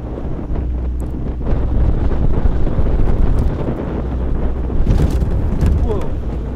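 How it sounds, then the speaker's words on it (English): Crosswind over a lake during a women's lightweight rowing race buffets the microphone with constant loud, low rumbling gusts, and voices talk faintly beneath the roar. "the wind has shifted into more of a crosswind"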